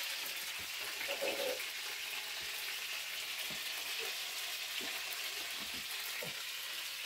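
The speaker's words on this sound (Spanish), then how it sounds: "Estamos friando el rico pollo, muchachos." Chicken frying in a pan, a steady broadband sizzle running throughout at moderate level, with occasional soft clinks and stirring sounds, no talk.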